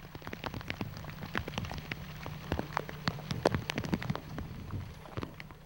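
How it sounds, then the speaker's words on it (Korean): Monsoon rain falls on a remote island village, with dense, irregular drops striking hard surfaces close by over a soft continuous wash, and no voices. "장마전선이 북상하면서 비구름이 섬을 뒤덮었다."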